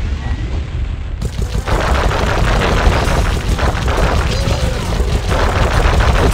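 Dense, continuous gunfire and booming blasts fill a shooting sequence in the video game Sly Cooper and the Thievius Raccoonus, loud and relentless from start to finish after a brief quieter opening.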